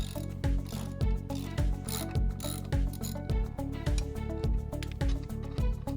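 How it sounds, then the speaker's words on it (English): A wrench ratchets steadily on the mounting bolt of a lawn mower blade, giving a close, even run of rapid clicks with regular louder pulls throughout. "Using the wrench, remove the mounting bolt,"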